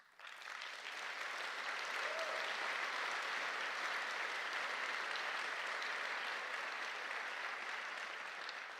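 Sustained applause fills a faculty and staff convocation hall, honoring the intercultural student engagement center team; the clapping of a large seated crowd stays steady and even from start to finish, heard at a moderate distance with no talking over it.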